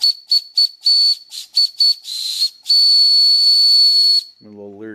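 Steam escapes from a homemade steam boiler with a shrill whistling hiss, first in short choppy bursts and then as a long sustained blast of about one and a half seconds, very loud and close, before a brief low tonal sound.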